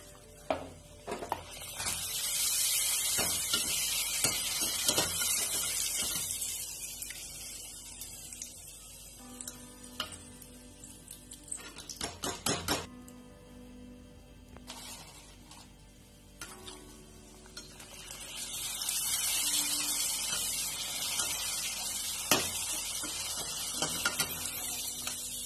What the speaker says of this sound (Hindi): तेल हमने चढ़ा दिया है, अब हम अपने पापड़ तलते हैं।